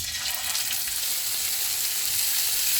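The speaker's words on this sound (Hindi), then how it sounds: "ऑयल गर्म हो गया, इसमें चिकन के पीसीस रख देंगे।" Chicken pieces frying in hot oil in a pan, a loud, dense, continuous sizzle with crackling close up, no talking.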